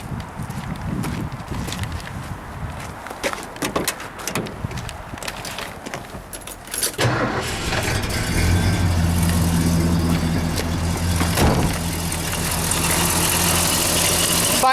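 A 1972 Ford LTD convertible's engine cranks with a few scuffs and clicks nearby, catches and fires up, then settles into a steady, smooth idle rumble that carries loudly through the rest.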